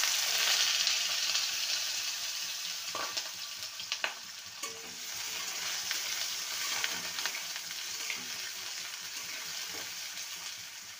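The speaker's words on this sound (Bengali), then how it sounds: "তেলটা গরম হয়ে গেছে, আলুগুলো ভেজে নেব" Potatoes fry in hot oil in a pan, giving a steady, close sizzle through the whole stretch, with a few sharp clinks and stirring scrapes along the way.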